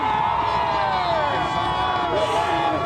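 A big crowd at the Philadelphia Eagles championship parade keeps up a continuous, loud cheering roar with scattered whoops and babble blending into one wash of noise.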